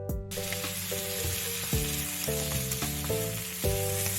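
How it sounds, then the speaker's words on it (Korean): Eggplant and minced garlic stir-fry in oil in a hot pan, a steady close sizzle with occasional stirring scrapes under soft background music. "달궈진 팬에 기름 두르고 다진 마늘 한 스푼 넣어 살짝 볶아줍니다. 가지도 볶아주세요."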